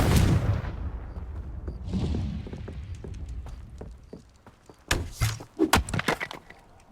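A Confringo blasting spell cast in the video game Hogwarts Legacy sets off a string of sharp, crackling explosive bursts with splintering debris. A heavy boom opens, and a denser cluster of loud cracks follows near the end.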